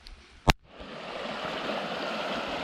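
A high creek roars over a beaver dam in a steady, broad rush of water. A sharp knock sounds near the start, and then the nearby flow holds steady.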